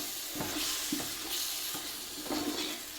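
Fish pickle masala being stirred in an oiled pan, with a steady sizzle and several scraping stirs of the spoon against the pan.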